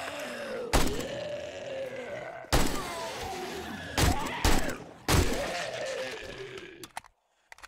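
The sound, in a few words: AK rifle gunfire in the video game 7 Days to Die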